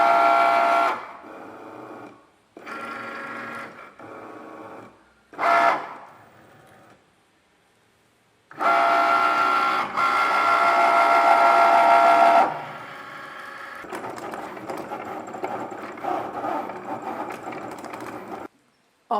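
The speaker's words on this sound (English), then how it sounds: "Now it's time to load the mat and get everything cut. First, the machine is gonna read the lines." A Cricut cutting machine reads registration lines, then cuts a printed image on its mat: bursts of whirring motor and carriage movement start and stop in a rhythm, followed by a long steady cutting passage, close and clear with no talking.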